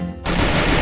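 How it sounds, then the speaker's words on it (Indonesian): A double-barrel shotgun fires in the Free Fire game, a sudden loud close blast cutting through a quieter moment and leaving a dense, roaring tail. "Oh jagoan, dia pakai shotgun double barrel cuy"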